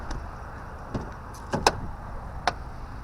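The door of a 2000 Honda HR-V with a 1.6 petrol engine, checked at a used-car lot, giving a few short creaks and clicks as it is moved, close up over a steady low background hum.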